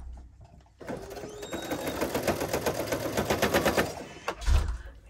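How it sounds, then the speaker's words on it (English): A sewing machine stitches quilt pieces together with a quarter-inch seam, a steady fast mechanical whir with rapid needle pulses for several seconds, close and clear. "now I'm gonna sew them together with a quarter of an inch seam"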